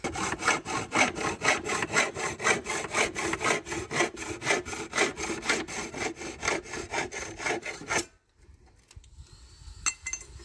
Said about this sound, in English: we're going to be using a hacksaw